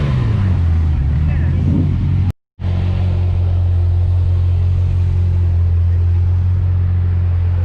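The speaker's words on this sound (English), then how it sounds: "A nice C7 Grand Sport Corvette coming in." A C7 Corvette Grand Sport pulls in at a Malibu cars and coffee gathering, its engine giving a loud, steady low rumble throughout, broken by a brief gap of silence, while people talk nearby.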